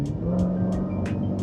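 A Mercedes-AMG GT Black Series engine in Sport mode rumbles and revs at close range, a deep throbbing growl broken by short, regular bursts of crackle roughly every third of a second.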